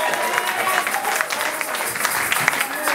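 A church congregation applauds and cheers during a sermon, a dense, steady wash of clapping and crowd noise filling the space without a break.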